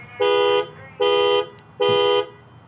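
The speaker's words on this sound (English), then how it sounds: "It just beeps the horn, flashes a light type thing." A 2021 Toyota Highlander's horn honks three times in an even rhythm from the key fob panic button, each beep loud and about half a second long with short pauses between.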